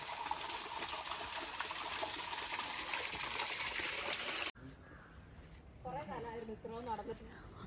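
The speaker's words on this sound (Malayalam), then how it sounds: "ഇതാ കാട്ടിനകത്തെ വെള്ളച്ചാട്ടം" Water rushes loudly and steadily from a waterfall deep in a Wayanad forest, a dense roar that breaks off abruptly, followed by quieter ambience with voices talking.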